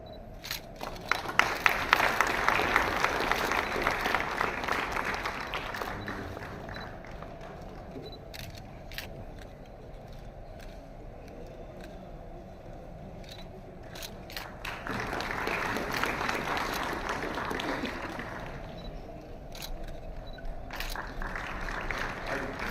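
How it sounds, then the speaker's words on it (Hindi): A crowd welcomes a guest at the launch of an agricultural fund and portal with loud applause. It swells twice in dense bursts, with camera shutters clicking rapidly all through and quieter murmuring in between. "निवेदन है जोरदार तालियों से महोदय का स्वागत किया जाए"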